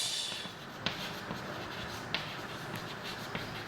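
Pen scratching steadily across paper while a cofactor matrix is written out by hand, with a few sharper taps at intervals, close and quiet with no talking.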